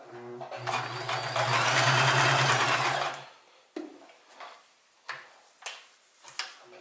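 A Sears Kenmore 158 series sewing machine runs a zigzag stitch in one close, steady burst of about two seconds, followed by a string of sharp mechanical clicks and taps.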